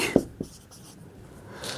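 A short scratch of writing on a board or paper during a math lesson, a couple of quick pen or chalk strokes with faint background room noise.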